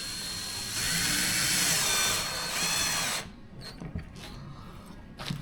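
A power drill drives a bolt into wood while a child's portable table is being built. It whirs loudly and steadily for about three seconds, then stops, leaving a few faint clicks and knocks.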